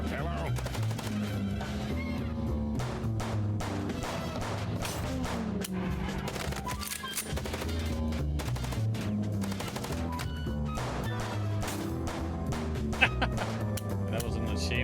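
Gunfire rattles through a car chase in the video game Chicken Police, bursts of shots and crashes layered over continuous music and engine noise, loud and dense throughout.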